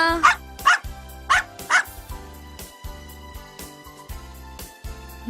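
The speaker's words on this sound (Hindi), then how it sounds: "कुत्ता।" A dog barks four sharp times in two quick pairs near the start, loud and close over rhythmic background music, followed by quieter music alone.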